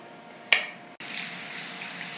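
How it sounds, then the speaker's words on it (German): Water from a tap or shower rinses conditioner out of short hair, a brief splash then a short cut before a steady close hiss of running water fills the rest. "jetzt müsst ihr eure Haare mit der Spülung richtig erstmal durchspülen."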